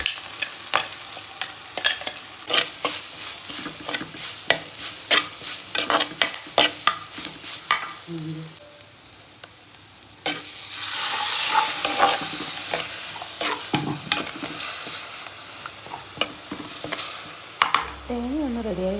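Ground coconut mixture sizzles in hot oil in a pan, broken by frequent sharp scrapes of stirring, with a steady frying hiss underneath and no voices.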